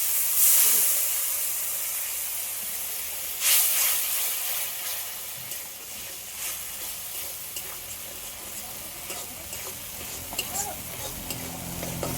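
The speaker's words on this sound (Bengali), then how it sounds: "অল্প একটু জল দিয়ে দিচ্ছি" Water is poured into a hot pan of Bengali curry with poppy seed and fried spiny gourd, and it bursts into a loud hiss of steam that fades into a steady sizzle with stirring scrapes.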